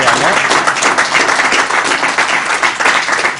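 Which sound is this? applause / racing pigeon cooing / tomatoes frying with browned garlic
applause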